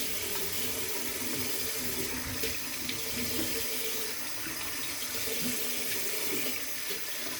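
Water runs steadily from a tap into a sink while a Merkur 34G safety razor is rinsed, a continuous close hiss and splash with no pauses.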